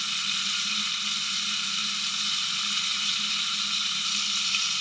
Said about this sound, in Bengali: মাছটা আমার সুন্দর করে ভাজা হয়ে গেছে